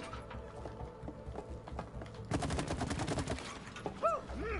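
Rapid shooting in the co-op game It Takes Two, a quick burst of sharp repeated shots starting midway and rattling for about a second, moderately loud, preceded by softer clicking game noises.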